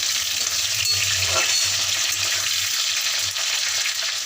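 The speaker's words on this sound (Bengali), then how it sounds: "পেঁয়াজ ও রসুনটাকে একটু সাঁতলে নিচ্ছি তেলে।" Onion and whole garlic cloves sauté in hot oil for a chicken stew, giving a loud, continuous close sizzle with occasional stirring, no voices.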